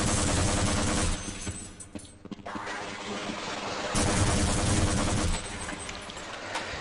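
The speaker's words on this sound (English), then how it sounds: "That's the fucking SMG grenade." SMG grenade launched by soldiers in the Half-Life video game, a loud burst and blast amid dense combat noise that stays busy throughout, with a brief lull partway through.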